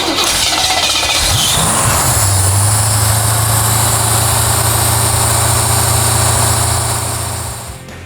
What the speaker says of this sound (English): So we're going to go through and just allow the engine to run and check all these things.